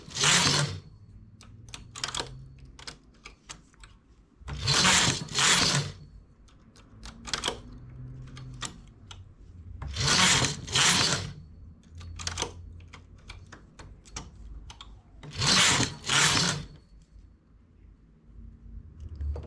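A knitting machine carriage sweeps across the needles while lace with a picot edge is made. There are four loud rattling passes, each a quick double sweep, with quieter clicks and taps between them.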